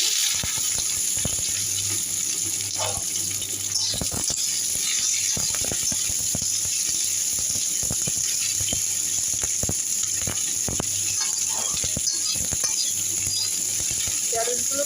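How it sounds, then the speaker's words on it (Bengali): Okra frying in hot oil in a pan, with a constant low sizzle broken by scattered crackles and sharp utensil clicks, close and steady over several seconds. "এদিকে তেল গরম হয়ে গেছে প্রথমে আমি ঢ্যাঁড়সগুলোকে ভেজে নেব এবার ঢ্যাঁড়সগুলো দিয়ে দিচ্ছি"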